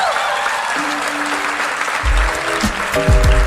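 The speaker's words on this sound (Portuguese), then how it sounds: "Só quem está grato, pode bater uma salva de palmas ainda mais" Congregation applause at a church baptism celebration, a steady wash of many hands clapping throughout, with low organ or keyboard tones and a bass note entering partway and sustaining beneath.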